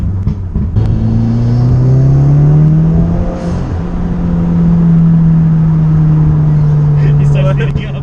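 A Subaru WRX engine revs and builds speed up close, a steady loud drone rising in pitch over several seconds, with brief pops along the way.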